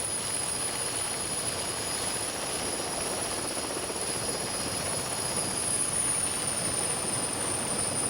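A helicopter drones steadily overhead, constant rotor and engine noise with a high whine, unbroken for the whole stretch.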